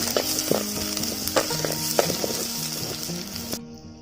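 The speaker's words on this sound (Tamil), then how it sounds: "சின்ன வெங்காயம் போட்டுடலாம், வெங்காயம் வந்துட்டு நல்லா வதக்கிடலாம்." Small shallots sautéing in a clay pot for Tamil fish curry, a close, bright sizzle with repeated scraping and clinking strokes of a spoon that cuts off abruptly near the end.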